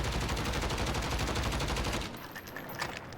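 A Grau rifle in the Modern Warfare video game fires a rapid automatic burst lasting about two seconds with a dense, even rhythm, then the burst stops and softer shell and gear noises follow.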